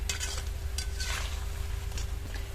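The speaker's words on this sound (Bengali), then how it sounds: "সবগুলো ভেসে উঠলে এবার উল্টে পাল্টে ভেজে নেব।" Small round batter fritters frying in hot oil over a medium flame, a steady soft sizzle with a few light clinks of a utensil stirring and turning them.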